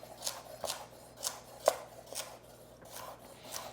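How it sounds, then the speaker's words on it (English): A knife chops carrot into large pieces for a Greek white bean soup, giving about eight crisp, evenly spaced cuts on a board in a quiet kitchen. "Now I'm going to go ahead and chop up the carrot as well."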